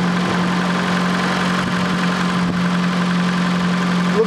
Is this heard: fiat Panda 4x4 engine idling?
yes